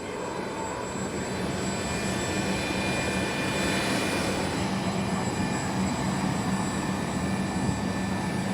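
An airplane comes in to land nearby, its engine roar a steady, loud drone that holds without pause in the outdoor air.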